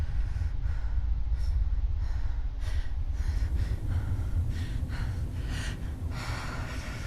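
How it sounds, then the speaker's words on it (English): Heavy, labored breathing from the Fallout 4 intro, a steady run of loud gasping breaths and snorts over a low background hum. "A lot of heavy breathing."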